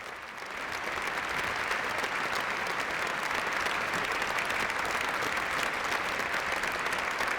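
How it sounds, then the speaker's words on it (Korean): A theatre audience applauds at the close of a Mozart opera with a happy ending, The Marriage of Figaro staged in Vienna: dense, steady clapping that swells in over the first second and then holds loud and even, with no voices. "오페라는 해피엔딩으로 끝을 맺고 대중들로부터 큰 박수를 받는다"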